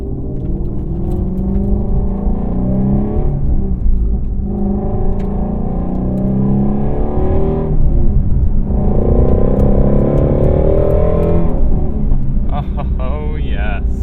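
A 2020 Ford Mustang Shelby GT350R exhaust revs repeatedly, heard from inside the cabin with loud, rising and falling engine swells in several bursts, ending with a short sharp flutter.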